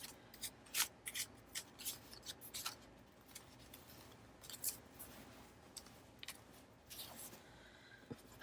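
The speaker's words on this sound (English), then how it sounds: "I think I'm going to cut it to that size" Scissors snip through paper images being cut to size for a journal, with a series of quiet, irregular close crisp cuts and faint paper rustling, and no talking.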